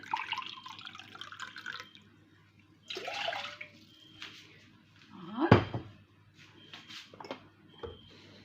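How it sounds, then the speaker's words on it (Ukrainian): About one and a half glasses of water poured into a saucepan for a salad marinade, in several close splashing pours separated by brief pauses and faint kitchen clatter. "Я кастрюльку заливаю півтора стаканчика води"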